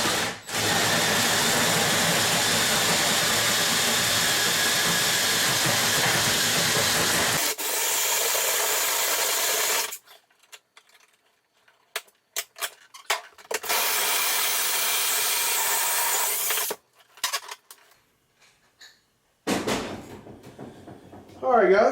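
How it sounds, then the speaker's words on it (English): A powerful drill grinds loudly through a house's exterior wall in long continuous runs, broken by short pauses with knocking and scraping. "we're going to see if we can drill this hole here"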